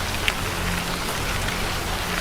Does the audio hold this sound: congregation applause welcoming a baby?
no